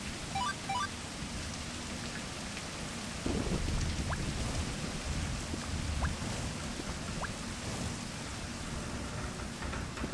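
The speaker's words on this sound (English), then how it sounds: "It is so loud on a rainy day." Heavy rain pours down steadily in a loud, dense wash, swelling louder partway through, with a few distant thunder rumbles in the background, in a space janitor game.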